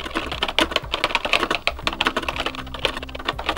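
Rapid typing on a Spectravideo computer keyboard while entering program code, a dense run of sharp close clicks and clacks with brief pauses and irregular rhythm, loud and near, with no talking.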